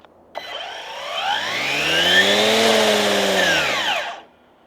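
A string-trimmer weedeater fitted with a brush-clearing blade starts up and revs, its whine climbing in pitch to a high steady scream and then falling away as it cuts off, loud and close with no talking.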